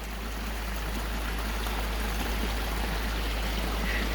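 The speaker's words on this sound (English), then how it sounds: "Look at that waterfall!" A steady rushing of falling water fills the scene, a constant broad hiss with a low rumble underneath and no voices.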